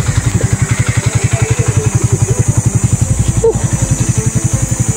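A trail bike motorcycle engine idles and putters close up, with a fast, steady thumping pulse and some mechanical clatter, loud and alone.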